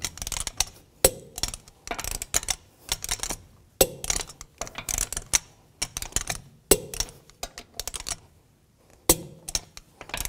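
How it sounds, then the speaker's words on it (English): Sharp ratcheting clicks in short, repeated bursts separated by brief pauses, close up, as a torque wrench tightens the lug bolts on a 2006-10 Volkswagen Jetta front wheel to 89 foot-pounds in a cross pattern. "Now I'm going to torque these lug bolts to 89 foot-pounds in a cross pattern"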